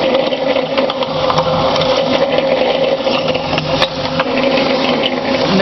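A Harbor Freight milling machine runs steadily up close while cutting, giving a continuous mechanical whir with faint irregular ticking throughout.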